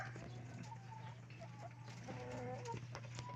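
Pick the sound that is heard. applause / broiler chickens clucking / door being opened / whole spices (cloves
broiler chickens clucking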